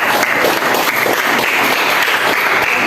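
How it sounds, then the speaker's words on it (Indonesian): An audience in a classroom at a teacher-training university claps for a student group, a dense burst of applause that stays loud and sustained for a few seconds, with no speech on top. "Kita berikan aplaus dulu buat kelompok"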